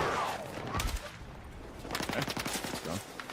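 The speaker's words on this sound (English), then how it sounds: "Someone's shooting at us." Gunfire in the Battlefield 6 video game, a quiet spread of rapid shots that bursts harder near the two-second mark, with a faint voice briefly under it.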